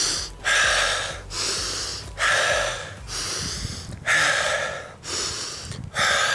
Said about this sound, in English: focus on that breathing